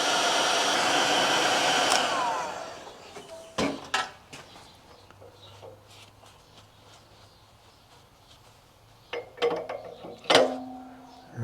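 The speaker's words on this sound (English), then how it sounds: "We'll just heat this race as hot as we can get it with this heat gun." A heat gun blows a loud, rushing stream of hot air onto a bearing race during a Yamaha HS1 90 twin crankshaft build, then cuts off, leaving sparse clicks and metallic handling sounds.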